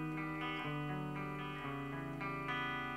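A distorted electric guitar riff with sustained, shifting chords played in a continuous phrase, thick with effects and no voices.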